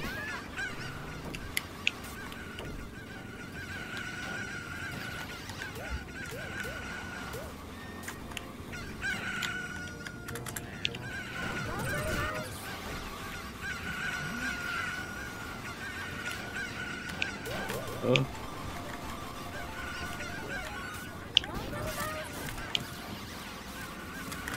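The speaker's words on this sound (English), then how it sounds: "Nightmares about the sound of chickens." Chickens cluck and crow over a long stretch of SRB2 Kart gameplay, with goose-like honking calls repeating against busy racing game effects and occasional voices.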